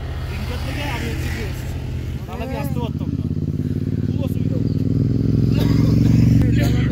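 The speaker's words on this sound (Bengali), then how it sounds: "ওপর দিয়ে কিছু বাইক আসছে" Motorcycles approach and pass on a mountain road along the Silk Route, a steady engine drone building louder toward the end, with voices briefly audible early on.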